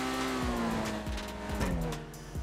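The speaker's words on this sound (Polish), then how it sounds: "Jak mamy go na najwyższych obrotach i nie zmienimy biegu, on cały czas pierdzi." A Benefactor Krieger in GTA 5 held at high revs without changing gear, its engine droning loudly and steadily with repeated popping bursts roughly every half second.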